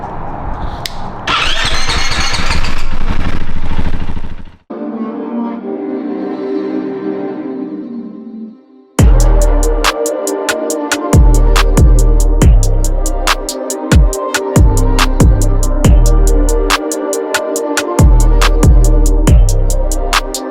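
A 2021 KTM 500 EXC-F motorcycle built as a supermoto cranks and fires up, then settles into a loud, close, lumpy single-cylinder idle with sharp throttle blips, in a slightly echoey space.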